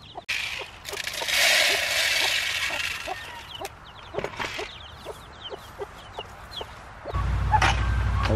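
Turkey poults in a pen peep and cluck in short repeated calls close by, with shuffling and rustling throughout and a burst of broad noise near the end.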